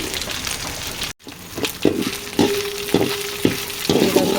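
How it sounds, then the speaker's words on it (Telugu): Pieces of Bombay duck fish frying in hot oil, a steady sizzle and crackle close by with a few louder pops and spatters, no talking. "బొంబడీలు ముక్కలుగా చేసుకొని శుభ్రంగా కడిగేసుకొని ఇలా నూనెలో ఫ్రై చేసుకోవాలండి ఎర్రగా వేయించుకోవాలి"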